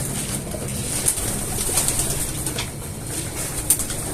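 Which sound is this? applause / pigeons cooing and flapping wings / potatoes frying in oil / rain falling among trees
pigeons cooing and flapping wings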